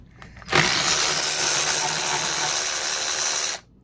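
A ratchet works transmission bolts loose during a manual transmission inspection, a close, loud, continuous run of rapid clicking lasting about three seconds before stopping, with no talking.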